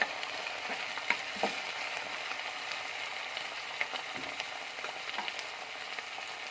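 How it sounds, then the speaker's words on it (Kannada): Tomato and onion frying in a pan for palak paneer, a steady crackling sizzle with occasional sharper pops and stirring scrapes, close and moderately quiet with no talking. "ಉಪ್ಪು ಹಾಕ್ಕೊಂಡು ಚೆನ್ನಾಗಿ ಕಲಿಸ್ಕೊಂಡು ಫ್ರೈ ಮಾಡ್ಕೋಬೇಕು."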